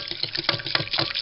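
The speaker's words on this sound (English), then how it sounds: "I'm going to put water in there" Tap water gushes into a cooking pot, the same one used to infuse milk for lilac ice cream and pistachio kulfi, making a close, steady, splashy pour that lasts the whole brief moment with no talk.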